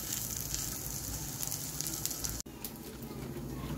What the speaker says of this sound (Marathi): इकडे थोडंसं बटर स्प्रेड केलं आहे आणि ही असं थोडंसं शेकून घेणार आहे